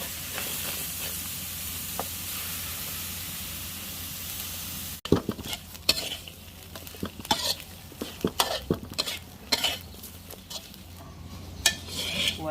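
Fish heads drop into a pot and are stirred while making Thai spicy tom khlong fish-head soup. A steady sizzle gives way to irregular clinks and scrapes of utensils against the pot.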